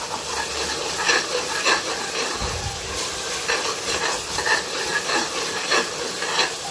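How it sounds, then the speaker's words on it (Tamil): Ingredients for beef biryani sautéing in a pan, a continuous loud close sizzle with repeated soft scraping strokes of a stirring spoon and a brief low thump near the middle. "இப்போ இதுவும் சேர்ந்து நல்லா வதங்கட்டும்."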